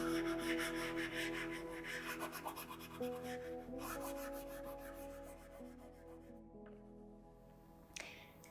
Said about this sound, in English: I'm just rubbing the longest edge back and forth.